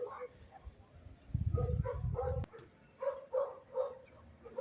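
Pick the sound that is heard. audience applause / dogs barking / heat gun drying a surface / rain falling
dogs barking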